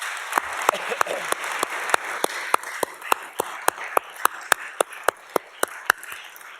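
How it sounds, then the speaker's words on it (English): A crowd applauding steadily at a graduation ceremony, many hands clapping at a moderate distance, with sharper individual claps standing out in a regular beat throughout. "Let's give them a round of applause, graduates."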